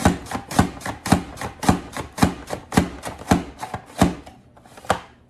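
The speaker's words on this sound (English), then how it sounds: "This is really easy, that's why it's called the rapid prep mandolin. Goes really easy." Potatoes slice into French fries on a Pampered Chef rapid prep mandoline, a steady run of about a dozen crisp, rhythmic chopping strokes, close and loud, slowing slightly at the end.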